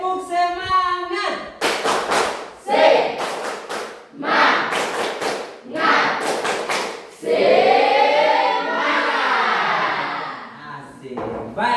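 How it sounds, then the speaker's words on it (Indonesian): Students in a classroom run through the 'tepuk semangat' spirit clap, with loud rhythmic bursts of synchronized clapping and desk thumps between spells of group chanting and shouting. "Tepuk semangat."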